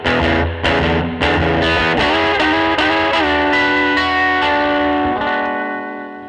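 Surf-style electric guitar notes and chords through a Carl Martin Headroom pedal ring out one after another, each trailing off in a wash of reverb, with a long fading tail at the end.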